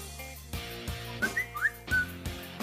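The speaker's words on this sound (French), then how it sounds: "Ok, le sifflement." A person whistles a few short, rising and falling notes, some quick and one held slightly longer, over steady background music.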